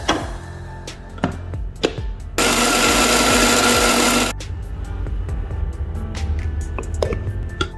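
A blender grinding a masala spice paste whirs loudly for about two seconds amid kitchen clatter and knocks, with quieter handling noises before and after.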